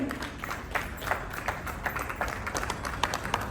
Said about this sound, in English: Let's have a big round of applause for gentlemen.